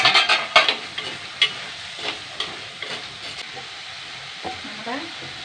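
Prawns hit a hot pan with a few sharp crackling bursts, then settle into a quieter, intermittent sizzle with scraping and stirring.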